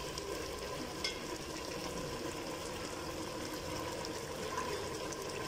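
Half a cup of oil added to boiled black chickpeas sizzles and fries steadily in a pan in a village kitchen, a continuous close crackling hiss with no talk.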